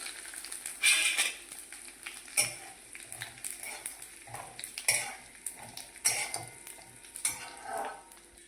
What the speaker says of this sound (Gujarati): જો આપણે તેલ ગરમ થયું, હવે જીરું નાખી દઈએ. જીરું નાખ્યું, હવે હિંગ નાખી દઈએ.